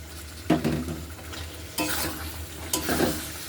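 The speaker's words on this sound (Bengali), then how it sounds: "এবার আমি এই সেদ্ধ করা মাংসটা এর মধ্যে দিয়ে দেবো" Boiled chicken pieces tipped into a pan of frying spice masala with oil separating at the sides, giving three short bursts of sizzling and stirring scrapes with quieter frying between them.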